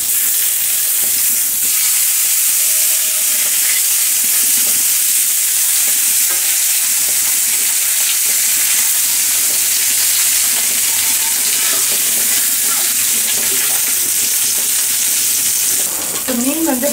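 Sardines frying in a pan after being flipped, giving a loud, steady sizzle of hot oil that crackles without a break and rises briefly near the end.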